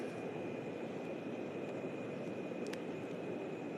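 An airplane engine in a video game drones as a constant, fairly quiet roar with a steady whine on top and no voices.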